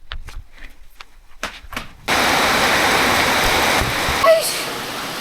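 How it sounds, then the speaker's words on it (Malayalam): Heavy rain pours down in a loud, steady, broadband rush that begins abruptly after a couple of seconds of quieter sounds and a few voices, then continues without a break to the end. "ഇവിടെ ഫുള്ള് മഴയാ"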